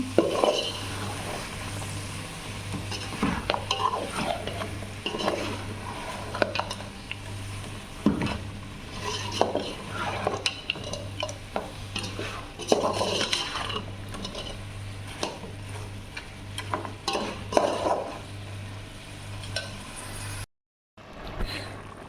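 Soup cooks in a pot while a utensil stirs it in irregular bursts of scraping and clinking, over a low steady hum, with a brief silent gap near the end.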